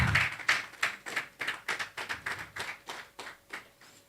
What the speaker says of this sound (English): The clapping is becoming less loud.